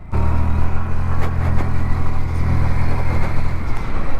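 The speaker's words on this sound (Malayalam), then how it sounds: "ഓ നല്ല സ്മൂത്തായിട്ടുള്ള ഒരു സൗണ്ടും പവറുമാണ് ഈ ഒരു വണ്ടിയുടെ ഭാഗത്ത്" Hero Destini 125 scooter riding along a highway, its engine and road noise a loud, steady drone throughout with only small wavers.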